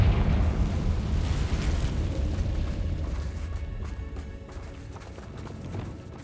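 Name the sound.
Confringo fire curse explosion in the video game Hogwarts Legacy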